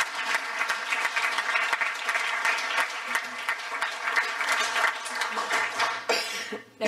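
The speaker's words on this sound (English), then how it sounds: "If we could give Dr. Sir a huge round of applause." Audience applause after a presentation at an education event, a sustained dense patter of many hands clapping that fills the room for several seconds before tapering off near the end.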